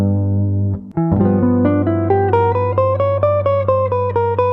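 Electric guitar blues lick, a fast run of bright picked notes climbing in pitch after an opening held chord, loud and close with no talking.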